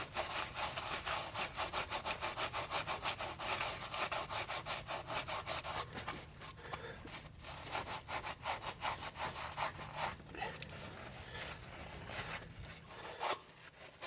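A Scotch-Brite pad scrubs a front-end part from a 2004–2007 Toyota Highlander FWD during a rebuild, making fast, close rhythmic rasping strokes that turn slower and more irregular partway through.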